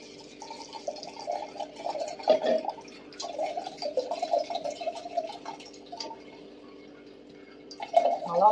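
Liquid dripping through a tea strainer in a home kitchen: a soft, close, irregular patter of small drips and trickles that comes and goes and grows busier near the end.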